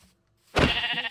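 A single short sheep bleat in Minecraft, loud and close, rising abruptly after a brief silence.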